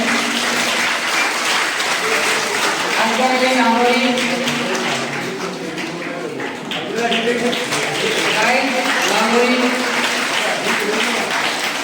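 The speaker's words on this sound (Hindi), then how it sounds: "बच्चों से गुजारिश करूँगा कि तालियां बजाएं" Children clapping at a ceremony honoring a ward councillor, a continuous patter of many small hands with voices talking and calling out over the clapping throughout.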